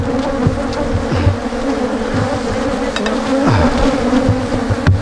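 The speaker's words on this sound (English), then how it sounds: "Oh man, these are really pissy bees." Swarm of angry Africanized bees buzzing loudly and continuously up close, with individual insects whizzing past the microphone in quick passes.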